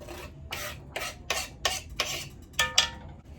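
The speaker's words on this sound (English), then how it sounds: "I'm just gonna dump in the onions and celery right now" Chopped onions and celery tumble into a chili pot with tomatoes, giving a run of about seven short, scraping rustles at a fairly even pace, close and moderately loud with no talking.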